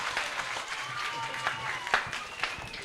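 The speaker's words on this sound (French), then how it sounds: "applaudissez pour eux, applaudissez pour eux" Children in an audience applaud at a kids' Wednesday show, a light, scattered patter of small hands clapping steadily for about three seconds, with excited young voices chattering over it.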